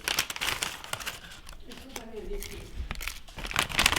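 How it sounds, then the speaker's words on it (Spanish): Dried bay leaves being crinkled and crumpled close by in short rustling bursts, with a person talking between the crackles. "Vamos a ponerle unas 3 hojitas de laurel."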